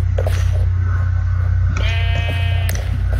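A sheep in the Minecraft video game gives a single drawn-out bleat midway through, over a steady low hum and a busy electronic game background.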